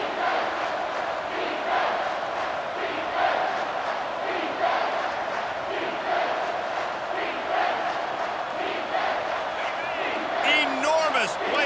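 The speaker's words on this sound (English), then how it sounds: "this crowd is bringing down the house" A college football stadium crowd roars on third down at Ole Miss, a loud, sustained wall of cheering and yelling that swells throughout. An announcer talks over it.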